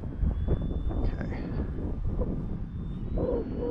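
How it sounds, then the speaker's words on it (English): Strong wind buffets the microphone at an RC flying field on a windy day, a loud low rumble under someone talking, with a faint whine of an E-flite T-28 Trojan model plane in the air. "it is so windy here, folks"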